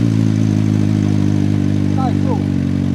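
A CFMOTO 750SR-S four-cylinder motorcycle idles with a low, steady, even exhaust burble, loud and close, continuous throughout.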